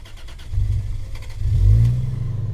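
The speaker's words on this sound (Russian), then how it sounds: "Мы сейчас можем ее даже немножечко, наверное, завести, если Джей не отрыгнет." An Opel car's engine catches and revs twice, a near, loud low growl that swells, dips and climbs again in a short burst with no talk.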